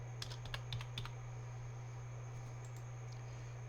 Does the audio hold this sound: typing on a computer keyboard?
yes